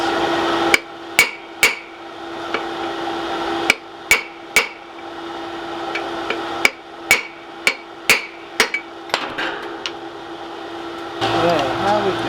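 A hammer strikes a vice repeatedly to shift it into position on its mount, sharp metallic blows in uneven clusters over a steady background hum, with faint speech near the end.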